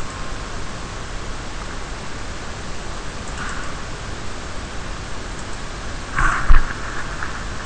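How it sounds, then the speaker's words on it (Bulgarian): Rain beginning to fall outdoors gives a steady, even hiss throughout, with a brief, slightly louder spatter near the end. "Май почна да вали."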